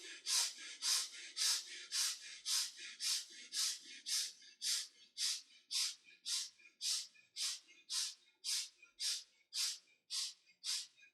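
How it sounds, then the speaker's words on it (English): Quick, short breaths forced through both nostrils in a steady rhythmic series, about twenty sharp bursts evenly spaced and close, with no talking. "start breathing quick and short, gentle breath from the chest through both the nostrils"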